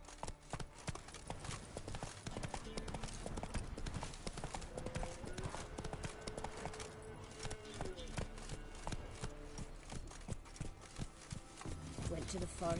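Roach, Geralt's horse in The Witcher 3 video game, gallops with a steady, rapid clatter of hoofbeats that runs throughout, over game ambience, with a brief voice partway through.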